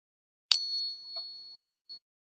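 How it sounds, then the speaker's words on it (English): A loose silver coin balanced on a finger gives a single sharp metallic ping with a clear sustained tone that fades over about a second, followed by a faint brief chime. "Something you can do when they're loose like this is ping them."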